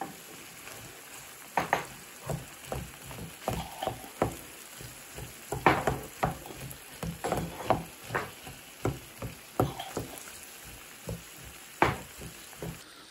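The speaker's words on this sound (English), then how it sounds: "I'm going to fry the cauliflower up in this as well." Cauliflower fries in fat in a pan under a faint, steady sizzle, broken by frequent sharp clicks and scrapes of stirring, close by.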